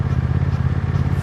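Motorcycle exhaust on a short ride rumbles steadily and loud up close, a continuous low throb with no talking.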